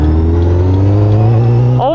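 A motorcycle engine warming up at steady idle, a continuous low hum close by, with a brief rise in pitch near the end; no talk over it.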